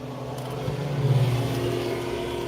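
A car cruising through a residential neighborhood at night gives off a steady low engine hum and road rumble, swelling briefly as it accelerates, with no talking.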